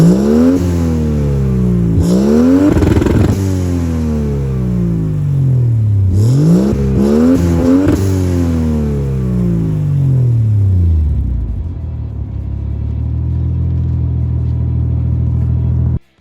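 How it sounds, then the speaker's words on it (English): A Mercedes W203 with a swapped Mazda FE3 turbo engine and a redone center-exit exhaust revs hard several times, the pitch climbing and falling in loud sweeps, then settles into a deep, rumbling idle. "I redid the exhaust and I am extremely happy with how it sounds."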